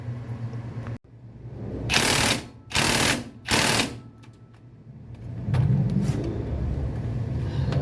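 Ryobi's biggest impact wrench, rated around 1,160 foot-pounds, hammers on an 18mm bolt torqued very tight on a Ford F-150 5.4L engine, firing three loud, short rattling bursts with quieter gaps between them.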